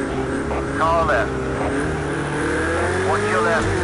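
A GT3 race car in a PlayStation 4 racing game at Fuji sweeps past on the left, engine note rising and falling with gear shifts, loud and close over a constant drone of other cars.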